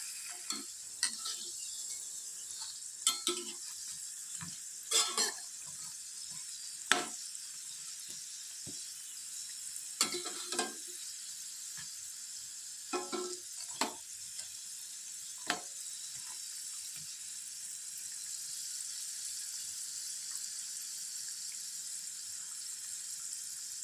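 Vegetable-stuffed crispy snacks frying in oil, a faint steady sizzle running throughout, punctuated by occasional clicks and scrapes of stirring.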